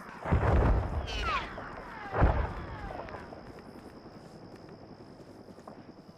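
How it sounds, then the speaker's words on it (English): Gunfire in an Arma 3 military operation, with two heavy booming shots echoing off into distant rumble and a faint steady tone underneath, fairly loud and without voices. "Careful, taking fire from the south."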